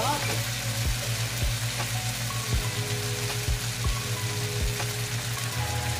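Vegetables sizzle in a pan with oyster sauce added, a steady loud frying hiss with a low hum and a few soft stirring knocks throughout.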